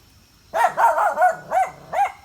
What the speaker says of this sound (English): There's a dog up there